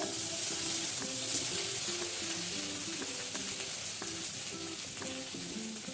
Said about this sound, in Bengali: আমি এখন তেলটা গরম হয়ে গেছে, আমি ভিন্ডিটা দিচ্ছি। ভিন্ডিটা একটু ভেজে নেবো আমি নুন হলুদ দিয়ে।